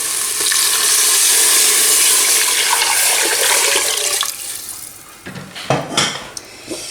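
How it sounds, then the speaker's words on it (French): Water poured into a pot of golden fried onion sauce for chicken rechta sends up a loud, steady hiss for about four seconds, then fades into scattered clinks and knocks of cookware. "je vais rajouter de l'eau"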